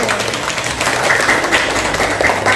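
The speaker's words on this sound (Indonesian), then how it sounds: "Mari kita beri aplaus. Iya, tepuk tangan Alifia." A classroom of Indonesian eighth-grade students applauds a classmate, with steady, fairly loud group clapping running throughout at close range, a few sharper claps poking through the dense wash.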